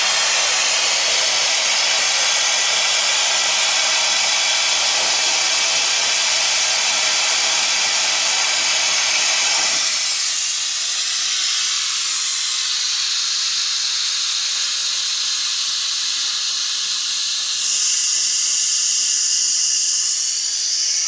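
A vacuum brake bleeder pulls brake fluid through an opened bleeder valve during a brake fluid flush, giving a loud, steady hiss that shifts in tone partway through and again near the end.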